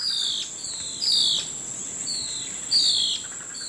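Birds calling in tropical forest where antbirds such as the blue-faced ocellated antbird follow army ant swarms: repeated high whistled calls and chirps rising and falling over a constant insect drone, moderately close, with no voices.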